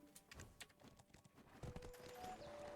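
Horse hooves clip-clop at a steady trot in the online game Black Desert Online, fairly quiet and mixed with faint game ambience, with no talking.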